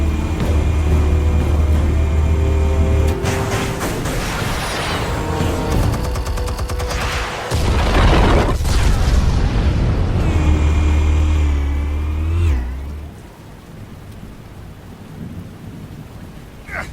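Explosives detonating in the Batman: The Telltale Series video game, a loud sustained roar of blasts and rumbling debris with deep low booms, fading into quieter crackling rumble near the end.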